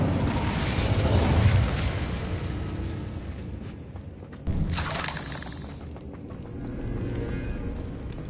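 Incendio fire spell cast repeatedly in Hogwarts Legacy, heard as loud, crackling, shattering bursts of magical flame, a long roaring blast followed by a second sharp burst and a lingering rumble.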